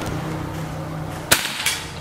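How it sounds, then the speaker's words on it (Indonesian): A Predator Escobar air rifle with a large 30 cc plenum fires a single sharp crack, followed shortly by a softer second snap, over a low steady background hum. "ditembak nempel ya Sobat Bediles di tembakan yang kedua"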